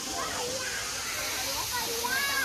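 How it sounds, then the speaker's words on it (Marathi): Steady broadband rush of a waterfall, close and continuous, with people talking and voices overlapping throughout. "या बघा हा धबधबा जो तुम्हाला दाखवला लांबून तो हा धबधबा आहे."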